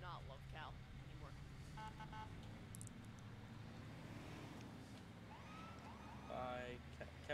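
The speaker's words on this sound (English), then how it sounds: "Kevin, you went off with your siren" Police car siren in a PC roleplay driving game, with wailing sweeps rising and falling under steady engine rumble and players talking over it.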